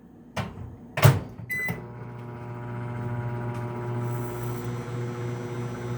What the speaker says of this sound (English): I need both of my hands to work this microwave